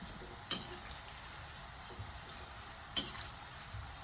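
Soft, steady bubbling sizzle of ragi murukku frying in hot oil, with two sharp clinks of a utensil, fairly quiet and close.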